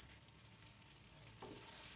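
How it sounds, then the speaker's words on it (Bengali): Onion paste fries with spices and a little white oil in a pan, giving a faint, steady sizzle with a soft stirring scrape near the end. "মশলাটার সাথে পেঁয়াজটাকে ভালো করে ভেজে নিচ্ছি।"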